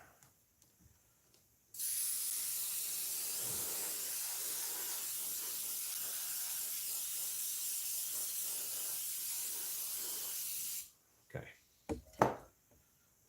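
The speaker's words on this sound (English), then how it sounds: "Let's find that black airbrush." A black-paint airbrush sprays in one steady, loud hiss lasting about nine seconds, then cuts off, followed by a few faint clicks and handling knocks.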